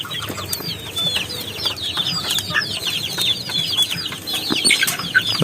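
Young chicks and grown chickens cluck and cheep continuously at close range, with many overlapping high peeps and occasional wing flaps, with no voices.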